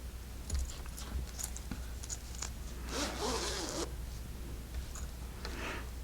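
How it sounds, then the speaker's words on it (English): A clothing zipper is done up in one long scratchy pull lasting about a second, preceded by small clicks and fabric rustles, close and fairly quiet, with no talking. "Then I can kind of do up my zipper here."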